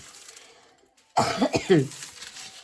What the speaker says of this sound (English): if I start coughing, it's because I can still, that smoke is still coming up